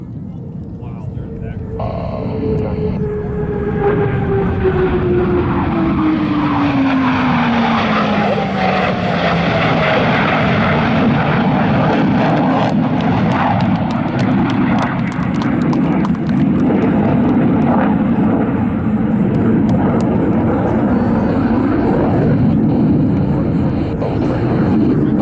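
Blue Angels jets sweep over Pensacola NAS, a loud roar with a falling pitch as the aircraft pass, followed by sustained broad jet noise. An announcer talks throughout.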